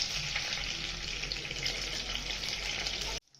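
Mustard seeds and cumin spluttering in hot oil for a capsicum stir-fry, giving a continuous, fairly quiet frying hiss with fine crackle that cuts off abruptly just before the end.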